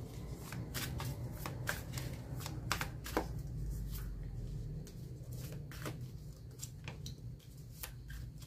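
Tarot cards being shuffled at the start of a reading make a steady, close riffling and slapping that runs continuously at low volume, with crisp individual card snaps scattered throughout.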